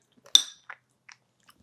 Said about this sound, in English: I'll take a small bite because I normally take big bites, and then you see me chewing and chewing and chewing.